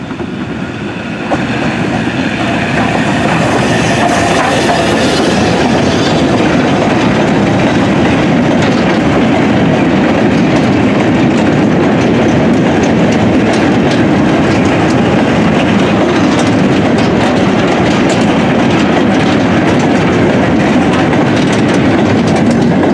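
Heritage train on the double-track Great Central Railway during a winter steam gala, heard from on board: a loud, continuous rumble with steady clickety-clack of wheels over rail joints throughout, with no voices.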